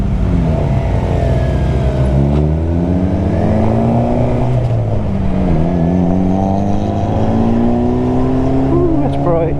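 Motorcycles pass on an open road, heard from a rider on a 2016 Suzuki GSX-R750 under loud wind and engine roar, with engine pitches sweeping up and down as bikes go by; a voice talks over the ride.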